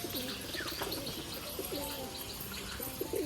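Pigeons cooing on a wet rooftop during rain, several soft, repeated throaty coos close by against a steady background hiss, with no talking.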